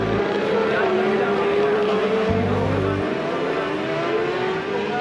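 A racing motorcycle pulls away from the Isle of Man TT start line, its engine a loud, steady drone with rising pitch. A commentator talks over it throughout.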